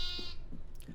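A sheep bleats in Minecraft, a short wavering baa that sounds close and clear, followed by brief soft clicks in a quiet one-second stretch.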